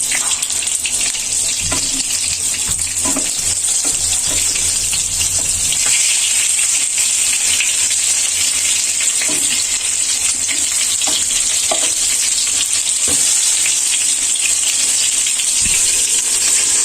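Eggplant fritters (begunar chop) fry in hot oil with a steady, loud sizzle throughout, broken by occasional clinks and scraping from the pan.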